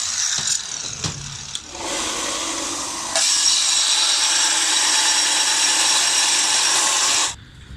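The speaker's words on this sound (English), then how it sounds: "So I'm gonna cut it." A power tool cuts metal during work on a turbocharged D16 Honda Civic build, with a few brief knocks, then a sustained loud grinding whine that steps up in intensity before cutting off abruptly.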